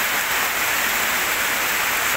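Heavy rain pours down at a home in Ban Non Thai, Lamduan subdistrict, a dense, steady hiss of water that stays loud and unbroken throughout with no voices.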